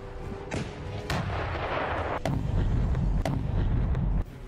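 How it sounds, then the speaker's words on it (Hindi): Ukrainian army T-30 122 mm cannon firing shells in repeated booming blasts, several heavy reports over a dense continuous rumble of battlefield noise, loud and close. "ये यूक्रेन आर्मी की T-30 तोप है और यहां इससे लगातार गोले बरसाए जा"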